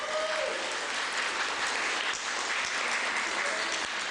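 Steady audience applause at a mayoral forum in Fall River, dense continuous clapping filling the room at an even level throughout, with a faint voice briefly audible early on.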